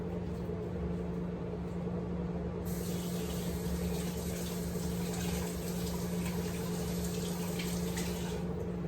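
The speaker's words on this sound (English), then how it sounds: "I'm going to rinse it off first" Black beans being rinsed under a running kitchen tap, a steady broadband rush of water that grows brighter partway through as the flow strengthens, continuous and close.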